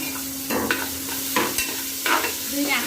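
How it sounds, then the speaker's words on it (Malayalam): Ginger and garlic frying in hot oil for a mutton biryani, a steady close sizzle with a few louder bursts of stirring and spatula scrapes, no voices. "എണ്ണ ചൂടായിട്ടുണ്ട് ഇഞ്ചി വെളുത്തുള്ളി ആദ്യം ഇട്ട് കൊടുക്കാം"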